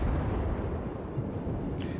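Main guns of the USS Omaha, an American Tier V cruiser in World of Warships, fire high-explosive rounds: a loud, continuous booming rumble of rolling artillery that fills the whole stretch, with a faint crack near the end.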